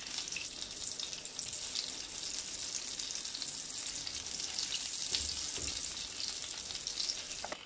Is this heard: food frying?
yes